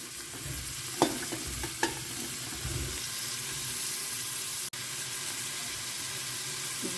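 Vegetables and onion frying in a pan for veg pulao: a steady, close sizzle with scraping and stirring, a couple of sharp knocks of a utensil early on.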